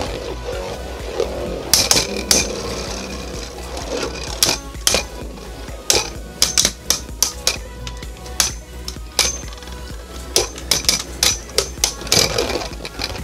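Harmony Pegasus and Glyph Dragon, two stamina-type Beyblade Burst Rise Hypersphere tops, spin and clash in a plastic stadium with a steady whirring hum, broken by repeated sharp clicking collisions that grow more frequent toward the end.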